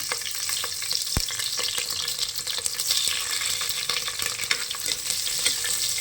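Two dried red chillies, six green chillies and shallots sauté for an ivy gourd leaf and green gram kuzhambu. A loud, continuous sizzle runs close by, with busy stirring scrapes and one sharp knock early on.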